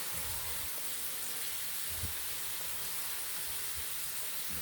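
Thinly sliced potatoes fry in hot oil with a continuous, even hiss and faint crackle, moderately quiet and close, with occasional soft knocks from a utensil.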